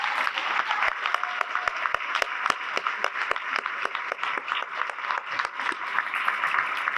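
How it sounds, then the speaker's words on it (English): A union conference audience applauds skilled trades members standing up, with steady dense clapping and sharp individual claps close by punctuating it for seven seconds, and no talking over it. "Let's give these brothers a round of applause."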